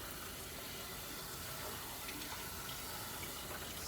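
Water drains steadily through wet soil and out of a freshly watered plant pot, a soft continuous trickle and hiss heard close up and quiet, with no talking.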